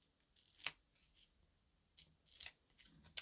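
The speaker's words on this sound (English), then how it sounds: "And I'll peel all of this off" Flowering foil specialty paper having its backing peeled off in a few short, crisp tearing rips separated by pauses, faint and close.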